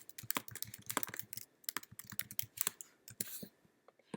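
Rapid typing on a computer keyboard, with dense bursts of crisp, close key clicks and brief pauses, heard alone.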